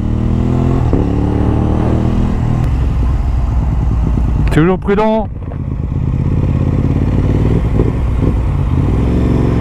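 An Aprilia RS 660 sport motorcycle engine drones loudly and steadily, with a sharp rising rev in the middle, and a person briefly speaks in French over it.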